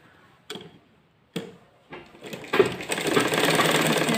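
A sewing machine stitches the kali panels of a salwar. A few separate clicks come first, then a continuous rattling run of stitching builds and holds, close by.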